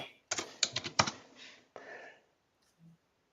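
Close computer keyboard typing comes in a quick burst of clustered key clicks, then a pause and a softer few taps, with near silence at the end.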